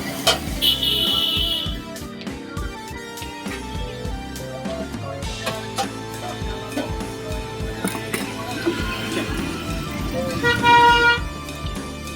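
City street traffic with car horns tooting intermittently, short honks rising over a busy mix of engine noise and passing vehicles, while a person talks at times nearby.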